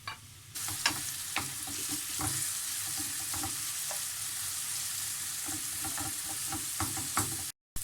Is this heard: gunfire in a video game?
no